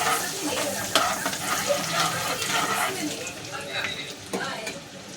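Garlic fries with turmeric in a pan for homemade pav bhaji, making a continuous close sizzle with spoon scrapes and stirring noises while someone talks.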